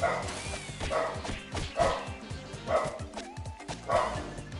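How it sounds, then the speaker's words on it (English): A dog in the video game TMNT: Shredder's Revenge barks repeatedly at a steady pace, about five loud, close barks spaced roughly a second apart. "Why is my Pippi Duke barking?"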